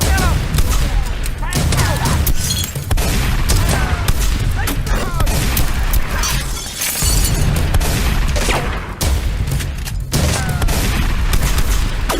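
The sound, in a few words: gunfire in an action movie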